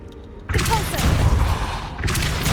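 A Repulsor spell blast cast in the video game Hogwarts Legacy lands as a sudden loud booming burst, rolling on with a rumbling roar before a second surge near the end.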